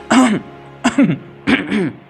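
A voice imitates a whooping cough: three harsh, throaty coughing bursts, evenly spaced and close up, each with a strained rasping catch.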